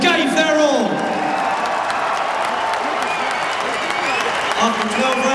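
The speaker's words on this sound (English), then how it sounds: "A round of applause for two boxers who gave their all." Arena crowd applauding two boxers after a twelve-round fight, a sustained wash of clapping mixed with scattered cheers and whoops, with an announcer's voice over the top.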